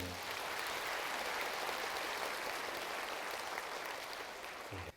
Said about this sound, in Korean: 저분을 위해서 박수 한번 쳐주세요.